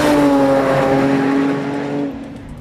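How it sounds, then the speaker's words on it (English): Loud, close engine of a STILLEN supercharged 500 hp Nissan 370Z revving hard with a rising whine, holding high then easing off as the revs drop near the end. "you start to rev that engine and get into the throttle hard"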